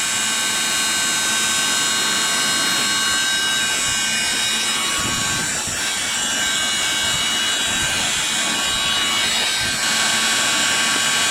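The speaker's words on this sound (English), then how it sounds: "I'm going to go around it with the heat gun" A heat gun on a low setting blows hot air in a steady, loud whooshing roar that holds nearly constant, close by, with faint clatter in the background and no talking.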